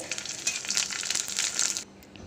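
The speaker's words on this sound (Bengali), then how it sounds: "এই অল্প তেলেই কিন্তু এগুলো ভাজা হয়ে যাবে" Snacks fry in a small amount of oil in a pan, giving a dense, crackling sizzle that runs steadily for about two seconds and then cuts off abruptly, with no voices.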